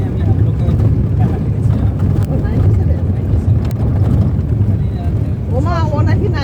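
A boat's engine drones steadily on a trip in the Andaman Islands, mixed with wind buffeting the microphone. People talk over the noise throughout.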